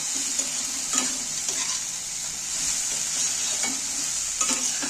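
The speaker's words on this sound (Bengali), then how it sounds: "বাদামগুলো এর সাথে নাড়াচাড়া করে ভালো করে ভেজে নেব" Steady sizzling of nuts frying in a pan with occasional scraping taps of a spoon stirring, no voices.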